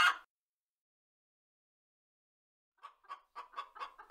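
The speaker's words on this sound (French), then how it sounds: "Sa caquette dans le poulailler." Hens in a henhouse give a short run of soft, rapid clucks after a brief sound at the start and a silent gap, heard alone and fairly faint.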